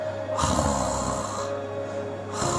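A voice imitates a person snoring, giving two drawn, rasping inhaled snores separated by a pause, close and moderately loud over a faint hum.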